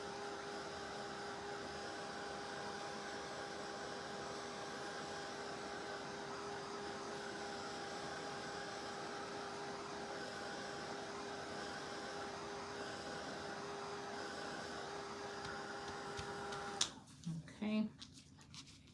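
A heat tool blowing hot air for crafting gives a steady, loud whooshing hum with a constant whine that runs unbroken for most of the clip, then cuts off into brief handling noises.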